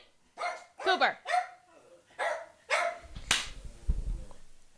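Pet dogs at home bark in a quick series of loud, close yips and woofs, roughly six sharp barks. Some thumping and scuffling come near the end.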